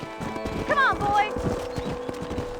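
Horse hooves clip-clop at a steady galloping rhythm in Red Dead Redemption, with a brief whinny from the horse and a voice urging it on over the hoofbeats.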